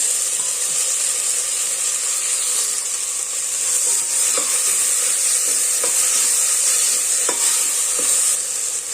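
Tomatoes sizzle steadily in a hot pan with onions while cooking sambar, a continuous loud frying hiss with occasional light clinks of stirring, no talk.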